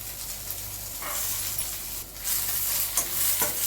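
Okra and garlic sautéing in a pan, a soft continuous sizzle broken by several scraping stir strokes, heard close and fairly quiet with no talking.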